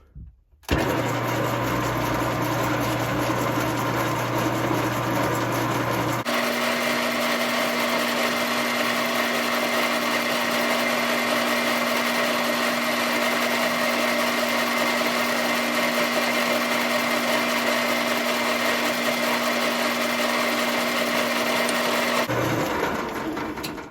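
A power drill bores a hole while a riding mower bagger is being installed, running as a steady high whine that shifts pitch partway through before stopping.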